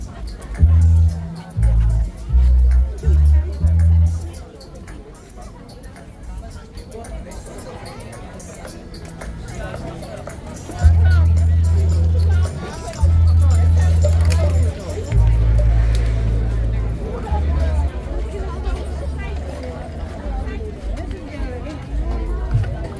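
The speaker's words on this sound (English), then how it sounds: "And the crowd is still here." A crowd chatters at a Diwali celebration at Kitty roundabout in Guyana, a steady babble of many voices punctuated by heavy thumping bass from nearby music, close and fairly loud throughout.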